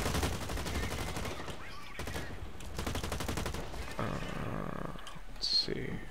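Rapid bursts of automatic gunfire in the online shooter Blacklight Retribution, coming in clusters with brief gaps, while a player talks over the fighting.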